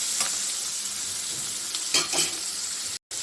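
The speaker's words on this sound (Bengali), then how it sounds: "এটা তাড়াতাড়ি ভাজা হয়ে যাবে" Salted pieces of pointed gourd sizzle and fry steadily in a pan, a loud continuous hiss close by, with a couple of brief stirring scrapes near the end and no voices.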